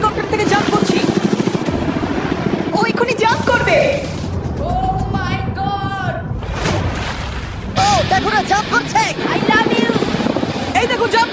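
A helicopter flies over a large island, its loud, steady rotor thrum and wind noise running throughout while people talk and shout excitedly over it.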